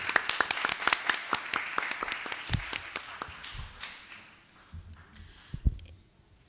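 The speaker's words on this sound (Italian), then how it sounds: "Un applauso" Applause at a certificate presentation during a Belt and Road forum; distinct individual claps in a quick, irregular patter that thins and fades over several seconds, with a few louder bumps and knocks near the end.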